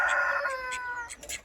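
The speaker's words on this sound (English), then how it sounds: "Not a particularly good example of a mallard call" A male mallard duck calling outdoors, a short series of nasal squawks close by, loud at first then trailing off into fainter calls.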